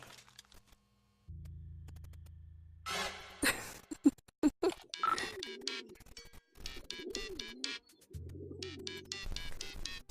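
Birds in the video game Hiveswap Act 1 coo and chirp in repeated warbling calls alongside game effects and low synthetic tones, fairly faint, with no one talking over them.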